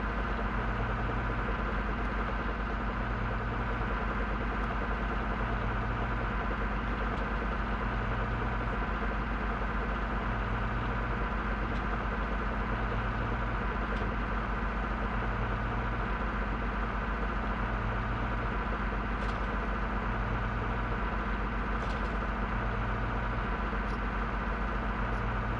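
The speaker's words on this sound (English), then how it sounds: "it's just super loud in-game for me with how loud this truck is" A military truck engine in the video game ArmA Reforger drones loudly and continuously as it crawls slowly uphill, a steady heavy low rumble with a regular pulsing throb and no pauses.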